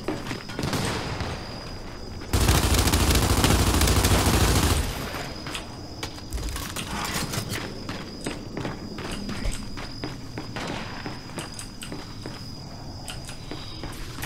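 Footsteps from teammates crunch and patter steadily in Gears of War 5 gameplay, layered under a dense burst of loud noise early on and a constant high electronic tone.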